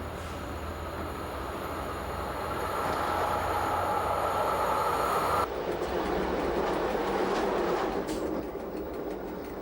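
Swiss SBB train on the Gotthard north line along Lake Lucerne, a steady rumbling roll with rhythmic wheel clatter on the rails, close and continuous, the tone shifting partway through as the train passes.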